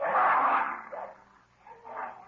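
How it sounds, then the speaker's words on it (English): Dogs in a radio drama bark and yelp in a short, agitated burst, then a second quieter volley follows after a brief pause, sounding moderately close. "Jake, the dogs are attacking him."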